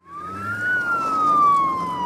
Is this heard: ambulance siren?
yes